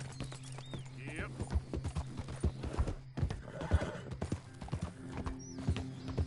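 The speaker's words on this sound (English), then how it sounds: "I think my horse makes a noise once in a while" A horse in the Red Dead Redemption 2 video game clops along at a steady walk, hooves thudding close, with a couple of short neighs and whinnies over a low ambient hum while someone talks.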